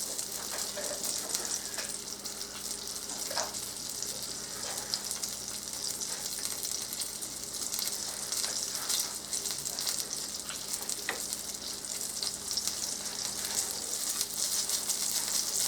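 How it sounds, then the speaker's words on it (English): Continuous crackling sizzle of breaded chicken frying in hot oil in a pan, a steady, fairly quiet hiss with occasional pops. "I'm going to let that fry for 2 minutes on each side"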